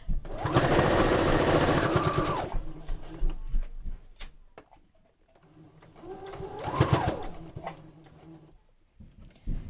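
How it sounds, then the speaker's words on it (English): A sewing machine stitches a fabric face mask in two bursts, a long steady whirring run at the start and a shorter one later, close and loud, with quiet handling noises and pauses between. "I'm going to pull the back and we're going to stitch"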